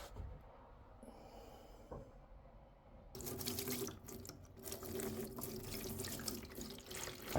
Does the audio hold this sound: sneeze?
no